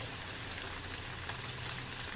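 Steady rain from Hurricane Patricia falling and pattering on surfaces, a soft constant hiss with scattered drops, fairly quiet and even.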